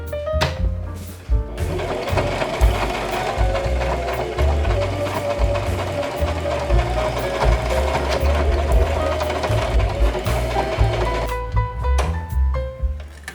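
A home sewing machine runs steadily with a rapid mechanical chatter while stitching fabric with black thread, close and loud, starting after a brief pause and stopping near the end with a few clicks.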